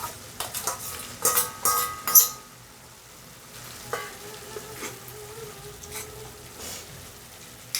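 Fried prawns being stirred into a tomato curry in a pan, with a run of clattering spoon scrapes against the metal at first, then a quieter simmering sizzle broken by occasional taps.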